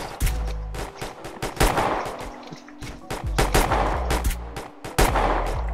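Repeated gunshots in a GTA San Andreas multiplayer match, sharp loud cracks coming in quick bursts and single shots across the whole stretch, close and punchy.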